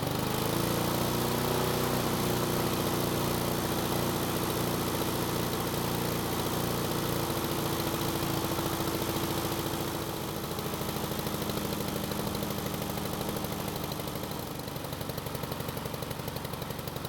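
A Husqvarna lawn mower engine running after repair, a loud, steady close-up drone with a slight shift in pitch partway through and no talking.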